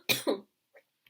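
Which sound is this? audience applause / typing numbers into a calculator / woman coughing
woman coughing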